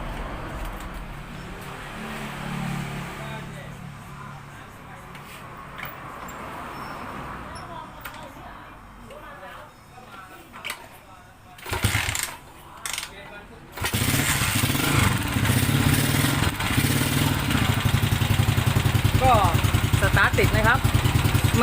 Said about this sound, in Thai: สตาร์ทติดอยู่ แต่เราก็ต้อง เร่งคันเร่งนิดนึง